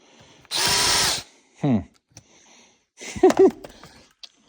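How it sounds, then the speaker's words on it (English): A power drill whirs in a short loud burst, then a brief second run and a few sputtering, uneven pulses as it drills out holes in a Macdon D65D header, with small clicks between. "So, let's drill these out."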